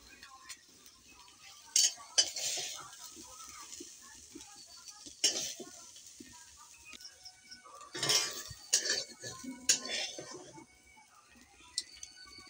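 Fried soybean chunks scooped from a pan into a pot of potatoes: light metallic clinks and scrapes of a spatula against cookware, scattered taps and a few louder knocks, close and fairly quiet.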